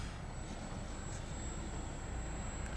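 A Mini Apprentice S RC airplane flies at a distance, its small electric motor making a steady, fairly faint drone with broadband wind-like noise throughout.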